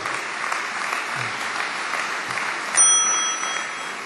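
A bright, high-pitched bell rings once to signal a speaker's time is up at a political party congress in Nîmes, amid the steady roar of a crowd, lingering briefly before fading.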